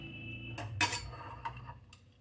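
Egg curry served onto a plate of rice with a spoon, a few quiet metallic clinks and one sharper clatter against the dish in a still kitchen.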